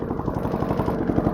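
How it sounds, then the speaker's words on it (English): An old, modified lawnmower's small engine runs steadily with a fast, chugging putter, close by and fairly loud, with no voices. "that's the lawnmower"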